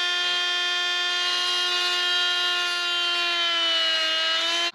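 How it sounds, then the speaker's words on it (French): Power cutting tool slicing air intake openings into a thick resin PC case, giving a loud, steady, high-pitched whine with strong tonal harmonics that holds for nearly five seconds and stops abruptly at the end. "je suis en train de découper les prises d'air"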